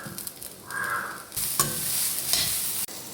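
Roasted gram and coconut stirred and sautéing in a hot pan, a steady close sizzle with scraping strokes of a spoon against the metal and brief louder clatters.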